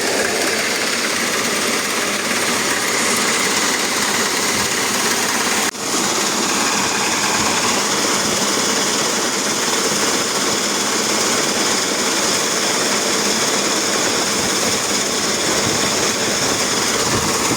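A Niva SK combine harvester threshing wheat gives off a loud, dense, unbroken mechanical roar and rattle up close, dipping only for a split second before continuing unchanged throughout.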